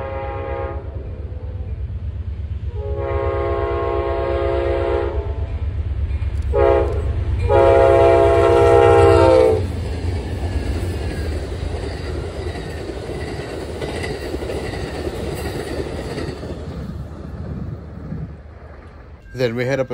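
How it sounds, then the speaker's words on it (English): Amtrak 58 passenger train speeding through Bradley, Illinois, sounding several loud blasts of its horn as it approaches, then a sustained rushing roar of cars passing close by that fades toward the end. "we see Amtrak 58 highballing it through Bradley"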